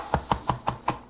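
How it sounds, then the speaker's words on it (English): Knife chopping garlic cloves on a board, five evenly spaced crisp chops close up, with no voices. "Garlic, we need about 4 cloves of that. Just going to cut this up, doesn't have to be super fine"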